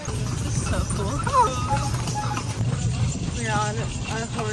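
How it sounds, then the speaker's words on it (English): Rhythmic clip-clop of hooves from a horse pulling a trolley on pavement on Gili Trawangan, close by, with people chatting over it. "We're on a horse trolley."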